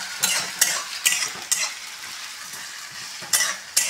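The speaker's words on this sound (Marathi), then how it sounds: "बघा कांदा टाकलेला आहे, त्याच्यात आलू टाकलेला आहे आणि शेंगदाणे तेलात ते तळून राहिले" Onion, potato and peanuts fry in oil for poha while a spoon stirs, sharp scraping strokes recurring in an uneven rhythm over a light background sizzle, close and clear.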